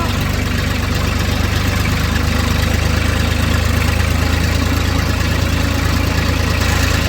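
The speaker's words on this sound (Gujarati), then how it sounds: "ट्रैक्टर चला रहे हैं" A tractor engine chugs steadily throughout, a loud, close, continuous low rumble outdoors near a hill in Kutch.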